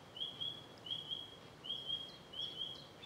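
Thrush singing in the background on a Norfolk coastal trail near Blakeney, faint repeated high whistled phrases in short bursts with brief pauses, distant over quiet outdoor ambience.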